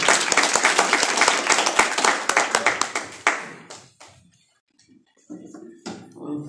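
Audience applause for panel speakers at a human rights hearing: dense, loud clapping for about three seconds that thins into scattered claps and fades, then brief quiet talk.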